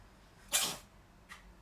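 A dog gives one sharp, close sneeze followed by a smaller second snort a moment later, both brief and clear against a quiet room.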